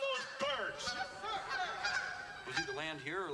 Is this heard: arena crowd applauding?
no